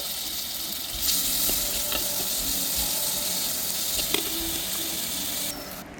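Steady sizzling of food sautéing in a clay pot, with occasional stirring scrapes and small clinks, alone with no talk.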